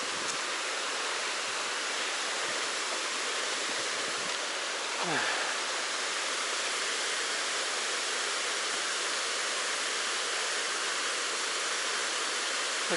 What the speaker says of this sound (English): cascading set of falls